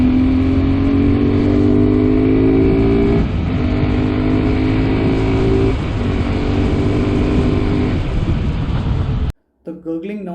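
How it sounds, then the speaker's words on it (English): A 2022 Suzuki Gixxer 250 motorcycle engine drones loudly as the throttle is opened in a high gear at speed, a close, steady intake note that shifts in pitch before cutting off abruptly near the end. "when you immediately open the throttle, you will get that intake noise."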